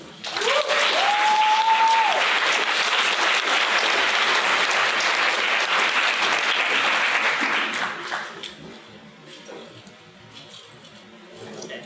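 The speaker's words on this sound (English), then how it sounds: "Clap it up. Welcome, Teresa Davis." Loud, dense audience applause at a reproductive justice meeting welcoming poet Teresa Davis, sustained for about eight seconds with a brief whistle-like tone early on, then fading to scattered claps and room noise.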